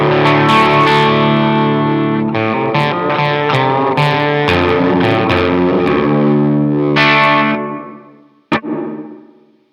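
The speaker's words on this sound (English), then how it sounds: "Here's my unaffected signal, except I'm putting a little bit of the DBA Rooms reverb on this" Electric guitar played clean through a Ghost Note Audio SWIRLS chorus/detune/compressor pedal with a touch of DBA Rooms reverb, sustained chords and notes ringing loudly, ending with a sharp struck chord that fades.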